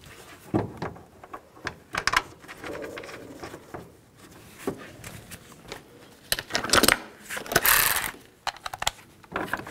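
Bolts being tightened on the fan shroud of a Ford E-250 during radiator replacement, heard as close, irregular ratcheting clicks and metallic clatter in short bursts separated by quiet pauses.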